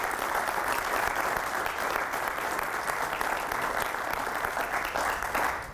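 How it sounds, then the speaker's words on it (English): An audience at a talk on policing in America applauds law enforcement officials present, a steady, dense wash of clapping that holds at full strength for the whole stretch with no voices over it. "let's give a round of applause for our law enforcement officials that are here tonight"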